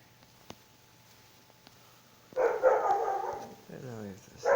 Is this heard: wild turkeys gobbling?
no